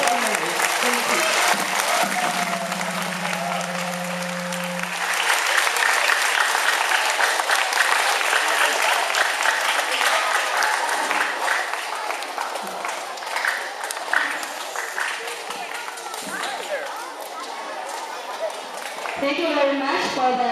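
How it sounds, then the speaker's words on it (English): An audience applauds performers at a school ceremony-style event, sustained loud clapping from a large crowd filling the whole stretch, with a low hum early on and some voices mixed in. "give a warm, loud, encouragement applause to our performers"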